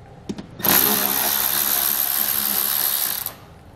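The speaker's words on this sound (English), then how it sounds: "We're using a 7mm socket to remove these bolts." A ratcheting 7mm socket wrench turns bolts out of a trailer panel during a brake controller install, a steady buzzy mechanical whir running continuously for about two and a half seconds after a couple of faint clicks, close and fairly loud.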